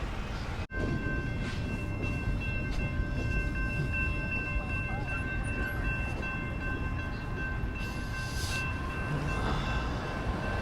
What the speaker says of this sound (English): Oh, I have to wait a while to cross for that train.